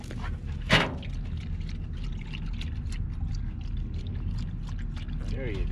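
Water is poured for a dog at an outdoor desert park in Arizona, a brief splashing pour near the start followed by soft trickles and drips, with someone talking throughout.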